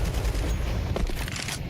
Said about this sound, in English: ZywOo throws some bullets down range